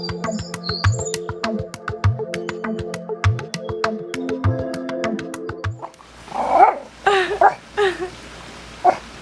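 Several excited dogs bark and yip close by in a backyard, a rapid run of sharp barks with whimpers, followed by a person talking loudly toward the end.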